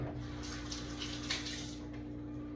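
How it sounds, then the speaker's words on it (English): Steady stream of running tap water as hands are wetted at a kitchen sink while making sourdough, a continuous close splashing hiss with no talk. "Let me get my hands wet."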